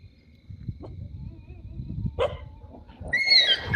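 Dogs in a cemetery at night give a sharp bark followed by higher whining yelps, fairly near, against an otherwise quiet background with low rumbling noise.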